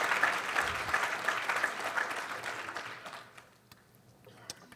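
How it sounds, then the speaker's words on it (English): An audience at a convention talk claps steadily for a few seconds, then the applause thins out and fades into scattered claps and quiet room noise. "Thanks for clapping."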